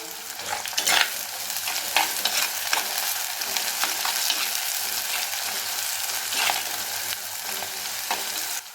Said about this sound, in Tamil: இப்போ வெங்காயம் பூண்டு நல்லா வதங்கி இருந்துச்சு